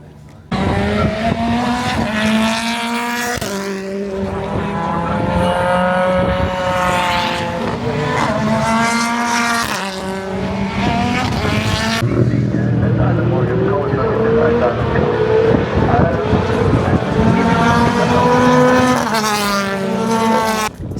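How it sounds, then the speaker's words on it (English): British Touring Cars lap Knockhill in qualifying, their engines rising and falling in repeated loud, revving passes with shifting pitch, heard from the trackside under gusty wind noise. "That is touring car quali just about to finish."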